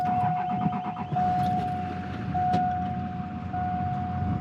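Vehicle driving over dusty ground at a mountain camp in Wyoming, a steady low engine rumble with a sustained whine, close and continuous with no talk.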